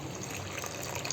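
Water is poured into a pot heating on the stove, a brief, steady splashing gush at moderate volume with no talk over it.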